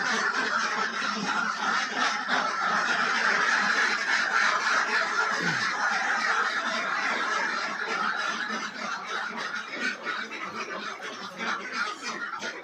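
A dense crowd of ducks on a duck farm quacks continuously at close range, loud and layered, easing off slightly toward the end.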